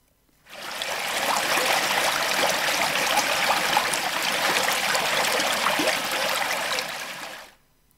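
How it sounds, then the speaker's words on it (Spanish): Water flows in a natural setting, a dense steady rush like a stream or small cascade that fades in, holds evenly for several seconds and fades out, with no voices. "el agua en su entorno natural va a ser nuestro primer tema"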